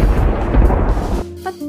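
A close lightning strike unleashes a heavy, deep rumble of thunder that rolls loudly for over a second before cutting off into a faint tonal tail.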